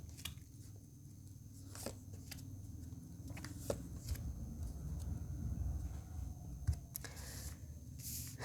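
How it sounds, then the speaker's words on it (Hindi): A deck of tarot cards is shuffled and cards are drawn, giving soft papery rustles and scattered light flicks and snaps at close range over a low, steady room hum, with no talk. "I need 3 cards from this deck"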